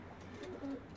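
Faint, low pigeon coos from a coop sound briefly against a quiet background hum, soft and a little distant.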